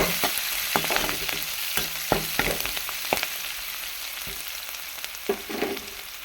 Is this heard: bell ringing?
no